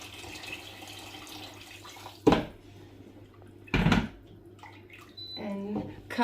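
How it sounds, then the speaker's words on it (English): Water pours briefly into a cooking pot in two short splashy bursts, with a quieter trickle and clink near the end against a steady kitchen hum. "And add water."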